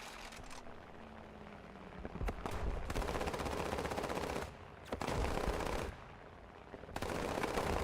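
Rapid aircraft machine gun bursts in War Thunder air arcade combat, sustained loud rattling in several long strings separated by short pauses, with engine drone underneath.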